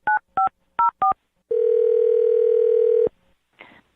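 Touch-tone telephone keys dialed as four short, evenly spaced beeps, followed by a sustained steady tone lasting about a second and a half and a faint brief sound after.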